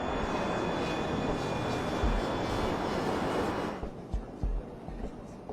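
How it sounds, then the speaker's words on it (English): A steady, loud broadband roar fills the cabin of an Avro 146 four-engine regional jet in flight on a night flight, then drops away to a lower, thinner drone partway through. "The crew is flying an Avro 146 regional jet."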